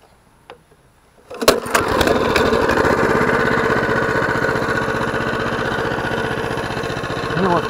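A walk-behind tractor engine cranks after a moment of near quiet, catches with a burst of sharp pops, then settles into a loud, steady chugging run close by.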